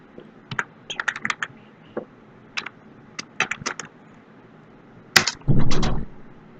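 Keys clacking on a computer keyboard, typing a command at a prompt in short irregular bursts of close, crisp clicks, with a louder cluster near the end.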